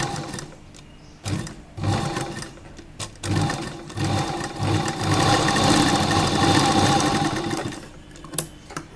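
A sewing machine stitching fabric close to a canvas interlining for an A-line collar jacket dress, its motor whirring in short bursts that build into a long steady run before stopping.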